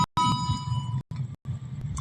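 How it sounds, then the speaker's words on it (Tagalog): A school bell rings in short clanging bursts with a steady metallic tone, broken by brief gaps, fairly faint and with no talking over it. "Gawas ako kay nag-bell na."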